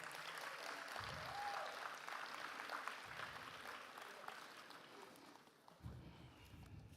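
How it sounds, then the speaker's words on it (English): An audience at a code of conduct pledge event, where a ballot paper is being drawn, gives a round of applause. The clapping is sustained and fairly even, with a few low thumps mixed in. "may I have a round of applause?"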